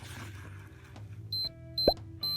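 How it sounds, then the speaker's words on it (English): A moisture meter on wet fiberglass insulation in a crawl space gives short high electronic beeps, three of them spaced about half a second apart, close and clear over faint background noise and a brief thump. "Hear the beeping?"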